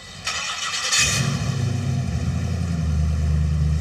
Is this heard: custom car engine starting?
yes